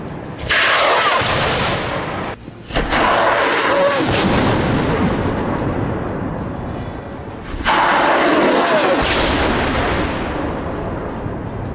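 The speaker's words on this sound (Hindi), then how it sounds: "फिर उसके बाद एकाएक ये रॉकेट्स फायर होने लगते हैं।" Rockets fired from launchers hidden in greenery in the Gaza Strip tear out in long, roaring blasts of rushing noise, one after another, loud and harsh with no talking.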